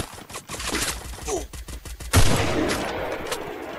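Rapid bursts of gunfire in the mobile battle royale game Free Fire, crackling volleys followed by a heavier blast and a lingering rumble, with no clear talk over it.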